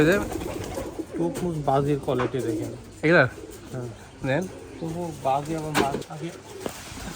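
Rajshahi pigeons coo close by, a series of soft throaty calls that rise and fall with short pauses between them.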